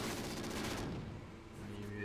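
A sentry gun fires in Call of Duty: Ghosts, a dense burst of rapid automatic shots up close that cuts off partway through, leaving quieter game ambience behind.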